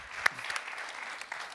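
Audience applause at a morning talk event, a brief burst of clapping heard faintly and at a distance, with a few sharper claps standing out over a soft, steady patter.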